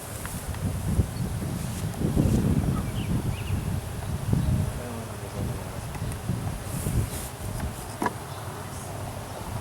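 Many bees buzz steadily around a hive, a dense droning hum with swells of louder, closer buzzing and occasional faint rustles.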